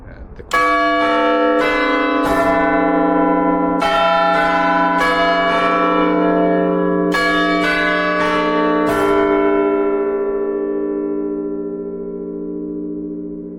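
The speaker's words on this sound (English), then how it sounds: "So that was the quarter bells chiming for 2:45." Church quarter bells ring out in a slow chiming sequence for 2:45, loud and resonant, each strike overlapping the last and decaying into a long, fading hum.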